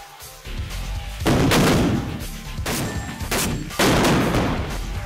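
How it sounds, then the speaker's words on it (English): A 120mm M327 rifled towed mortar fires several heavy, booming blasts spaced about a second or two apart, each loud and sharp with a rumbling tail, and no voices. "At the center of the EFSS is the most advanced rifle-towed mortar system in the world, the 120mm M327."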